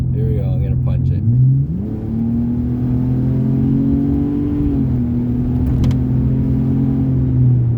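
A 2003 Ford Ranger pickup with a swapped-in 4.0L SOHC engine revs hard under full throttle. The engine note climbs steadily and stays loud and continuous close to the microphone, with a brief voice heard at the start.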